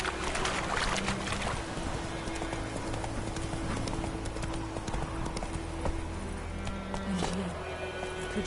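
Roach, the horse in The Witcher 3, gallops with rapid, continuous hoofbeats mixed into dense game ambience and background music, loud and close throughout.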